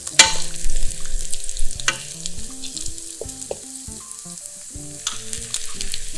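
Green onion sizzles in a hot pan with oil, a close, crackling hiss with clinks of stirring and tonal music underneath, steady through the stretch.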